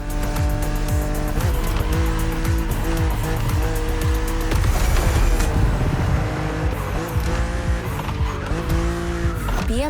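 A BMW Z roadster races an opponent in The Crew Motorfest video game. Its engine roars continuously and loudly, with repeated tire squeals and skids throughout and no talking.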